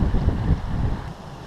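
Cold winter breeze by the Raritan River buffets the microphone with low, rumbling wind noise that swells and eases, fairly close, with no talking.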